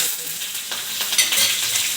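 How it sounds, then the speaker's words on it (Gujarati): Green chillies and curry leaves hit hot oil already holding crackled mustard seeds and asafoetida, giving a loud, close burst of spattering and sizzling that swells over two seconds. "લીલા મરચાં અને લીલો લીમડો"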